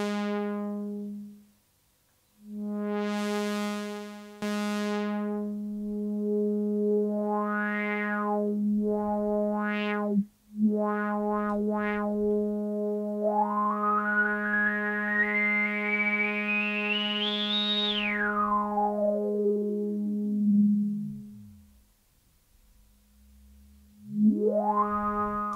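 A UDO Super 6 synthesizer holds a buzzy, harmonically rich low note while its filter sweeps up and down, giving repeated rising and falling wah-like swoops over about twenty-five seconds, with a long bright climb and fall in the middle and no talking.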